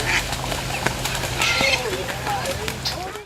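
A duck quacks in a series of short, raspy calls after driving off a seagull, close and fairly loud, with a steady low hum and other outdoor noise underneath.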